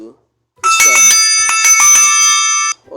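WhatsApp guitar ringtone on a phone playing a bright, ringing, plucked bell-like pattern for about two seconds, loud and close, with speech just before and after.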